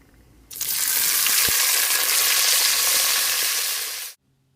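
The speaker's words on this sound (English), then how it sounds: "Now I put in a little bit of oil, it's probably 2 to 3 tablespoons of oil, and I'm going to put the meat back in once it's hot enough." Meat goes back into a pan of hot oil, bursting into a loud, dense sizzle that starts abruptly, holds steady with a single knock, and stops sharply at the end.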